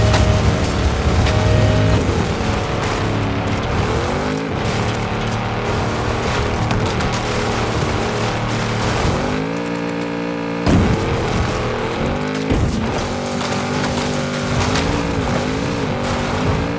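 A Nissan GTR races in a video game, its engine whining and rising through the gears with tire squeals and shifting pitch, loud and continuous, without any talk.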